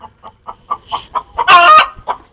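Desi chickens in an Indian poultry farm shed cluck in a quick series of short, close clucks, then one louder drawn-out squawk before a last cluck.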